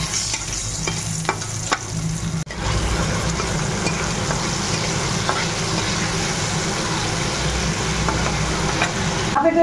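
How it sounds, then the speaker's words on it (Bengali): A single piece of fish frying in a pan of hot oil, a dense steady sizzle with light scraping and stirring at the start, continuing loud and close without talk. "এক পিস মাছ ভেজে নিলাম আমার গোপালের জন্য"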